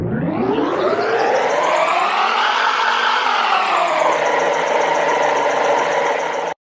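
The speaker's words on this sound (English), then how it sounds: "I managed to get an engine that sounds like this." A synthesized adaptive spaceship engine built in FMOD rises in pitch to a strained, screaming peak, then eases down and settles into a steady, loud sustained drone, continuous and close, with no talk.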